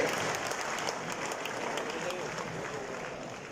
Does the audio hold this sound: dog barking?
no